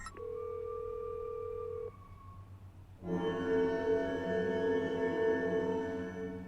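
A steady electronic phone tone sounds, cuts off, then after a short pause a louder, buzzy telephone ring starts and keeps going.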